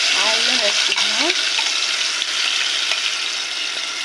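Onion and tomato paste fries in hot oil with a loud, continuous sizzle and hiss, while a voice speaks briefly over it at the start.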